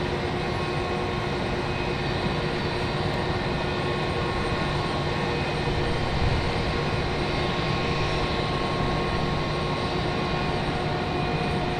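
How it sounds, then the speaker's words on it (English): An American jet airliner climbs out after takeoff from Raleigh-Durham International at sunrise, its engines a steady, loud broadband roar that holds evenly throughout with no voices. "the American that just took off is headed to Phoenix"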